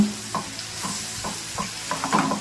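Onions sizzle steadily in hot oil while a utensil stirs and scrapes the pan in short, regular strokes.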